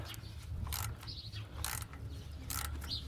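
A ratchet working on tight thread-locked bolts on a Ford Falcon XR6 during a water pump and tensioner job, giving quiet repeated clicking bursts in three rough pulls over a low background hum.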